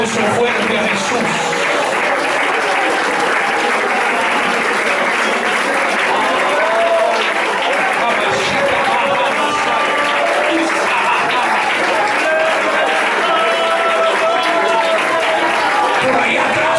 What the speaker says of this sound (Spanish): Ese aplauso fuerte a Jesús.